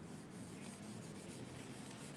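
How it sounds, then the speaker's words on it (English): Someone sands by hand with quick, faint, rhythmic rubbing strokes, close to the microphone, with no talking. "I've been sanding and sanding and sanding and sanding and sanding."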